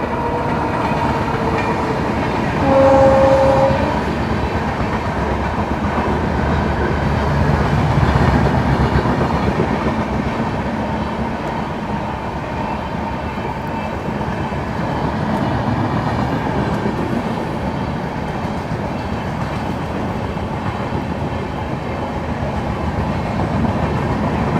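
The Kaifiyat Superfast Express from Delhi to Azamgarh passes close by with a steady, loud rolling rumble and clickety-clack of wheels over rail joints, plus a short tonal note early on.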